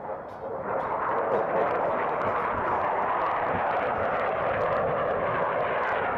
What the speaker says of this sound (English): Was that an F16?